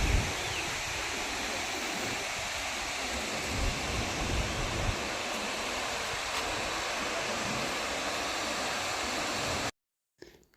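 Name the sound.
Abbi waterfalls near Madikeri, Coorg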